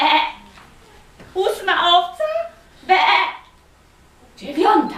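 A voice imitates a sheep bleat, giving several short 'baa' sounds in turn as she counts sheep in Polish, with spoken counting between the bleats.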